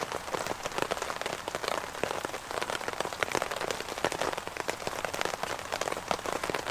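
Steady rain patters on surfaces around a woodland bushcraft camp during a breakfast cooked over a small fire on a hobo stove, a dense, even hiss of drops close by with no voices.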